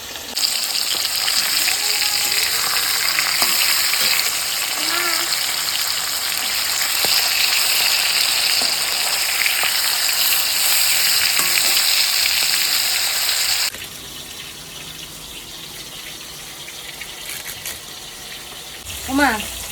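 Fish frying in oil over a gas cylinder stove at home, a large glass carp: a loud, continuous sizzle for most of the clip that then drops to a quieter hiss, with occasional clatter and some background voices.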